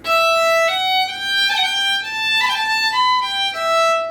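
Fiddle melody of the Irish jig "Miller's Maggot" with quick ornamental rolls, bright sustained notes broken by fast decorative flicks around each main note, played alone and up close.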